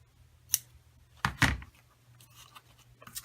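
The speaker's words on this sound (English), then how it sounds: "Bring in some good scissors to good ribbon scissors to cut that on a little angle." Ribbon scissors snip through ribbon, cut on a slight angle while crafting a cat-themed punch notebook: one crisp snip, then a louder double-crunch cut, close and alone with faint rustling afterward.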